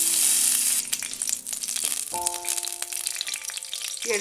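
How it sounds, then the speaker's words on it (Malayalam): Raisins dropped into hot ghee after cashews for vermicelli payasam with jaggery, a loud bubbling sizzle that bursts up and then settles into steady close frying. "ഇതിലേക്ക് മുന്തിരി ഇട്ട് കൊടുക്കാം."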